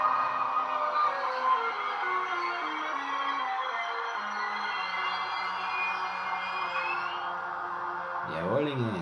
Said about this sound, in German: wir werden jetzt mal fahren und dann das Bremsquietschen einleiten.